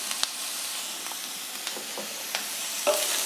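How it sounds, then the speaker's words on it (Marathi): A coconut and jaggery modak filling roasts over low heat in a pan, giving a soft steady hiss and sizzle with occasional light scrapes from a stirring spoon. "हा गूळ वितळेपर्यंत आपल्याला हे परतवून घ्यायचं आहे"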